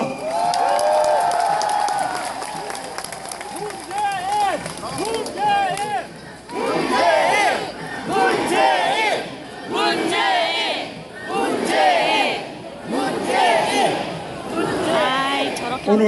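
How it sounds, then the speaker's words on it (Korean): A large outdoor crowd at a presidential campaign rally on a fashion street, cheering and applauding in repeated surges while an amplified voice talks over the noise. "다시 한번 큰 격려의 박수 부탁드립니다"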